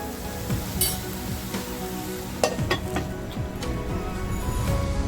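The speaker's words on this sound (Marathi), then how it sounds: "मंद गॅसवरती हा टॅमॅटो आणि मसाला छान असं शिजून घेते" Tomato and masala sizzle with minced mutton keema in a pan over a low gas flame, a steady close frying hiss broken by the scrape and clink of a stirring spoon.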